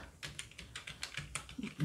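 Keys tapped on a computer keyboard while a web address is entered into a browser search box, a quiet, fairly steady patter of individual keystrokes with a slightly louder clack at the very end.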